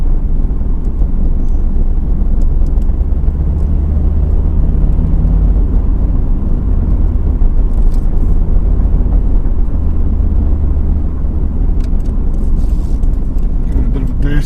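A 2002 Subaru WRX STi Prodrive Edition rolls along slowly, its steady low engine drone and road rumble filling the cabin at constant level, with a person speaking over it at times.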